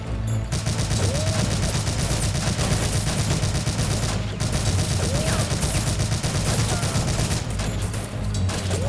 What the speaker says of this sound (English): let's start blasting with our MG42